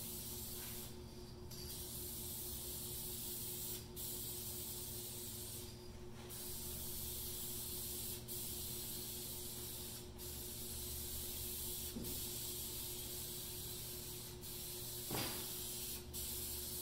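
Spray gun laying a finish coat onto a walnut fireplace mantel, a steady loud hiss of atomized spray that runs continuously with brief pauses and faint clicks between passes.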